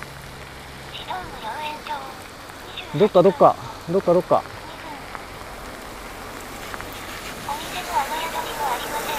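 Steady rain pattering on surfaces outdoors during a cycling trip, a constant close hiss beneath a man's spoken remarks that come in short bursts midway.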